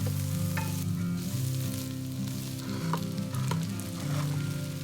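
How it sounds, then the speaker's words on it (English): Potatoes and corn sauté with aromatics in vegan butter in a pan, giving a continuous soft sizzle and crackle with occasional stirring ticks, beneath steady background music. "I saute my aromatics in some vegan butter, then toss in the potatoes and the corn."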